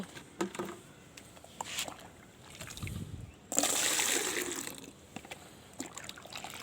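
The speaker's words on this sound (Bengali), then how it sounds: "তা আরও দশ লিটার জল বাদ থেকে তুলে নিচ্ছি" Water scooped and poured from a bucket onto a rooftop garden's grow bags while applying liquid organic fertilizer, with soft trickles and splashes that swell into a louder, steady pour midway before tapering to light drips.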